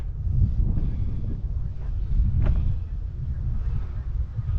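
Steady wind of about 12 miles per hour buffets a microphone outdoors in Barrington, Illinois, making a continuous low rumble with slight gusts throughout.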